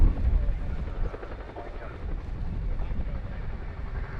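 An RAF Chinook HC.5 twin-rotor helicopter hovering low during an underslung load lift at an air show. Its deep, steady rotor roar and buffeting downwash wind fill the air loud and close, with a voice talking over it.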